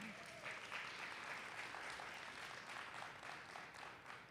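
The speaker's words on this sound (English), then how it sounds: "How about a round of applause for the redesign team?" A crowd applauds steadily, a dense wash of clapping that holds at an even level throughout.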